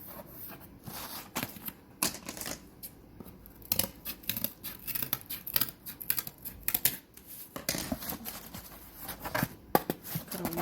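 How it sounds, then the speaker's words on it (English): Scissors trim faux floral stems and leaves in a quiet craft session, making many rapid close snips and crunchy cuts in an uneven, continuous rhythm with no speech. "So I'll cut a little bit more."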